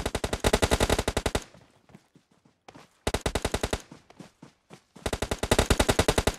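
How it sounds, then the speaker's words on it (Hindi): Automatic gunfire in PUBG Mobile during a live tournament match: long, rapid machine-gun bursts at the start, middle and end, with scattered single shots between, loud and close. "बेतुके फायर कर रहे हैं ये लोग, गोलियां जाया कर रहे हैं अपनी"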